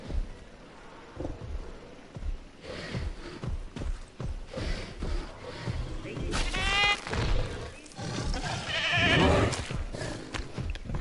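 A goat bleats in the dinosaur park game Jurassic World Evolution 2, a wavering cry rising over a busy rumbling backdrop of game ambience and distant heavy animal sounds, with a second bleat later.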